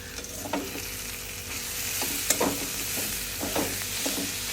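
A pan of vegetables, a pathri greens dish, sizzles steadily up close while a spoon scrapes and stirs in a few quick bursts, with no talk.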